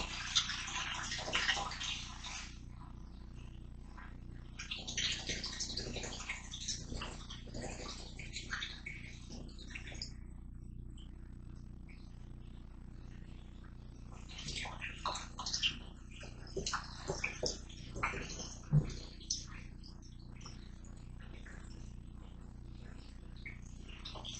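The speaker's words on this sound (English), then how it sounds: "Get some good aeration going." Homebrewed English IPA wort being aerated, with liquid sloshing and splashing in bursts that come and go. The sound is fairly close and moderate, with no talking.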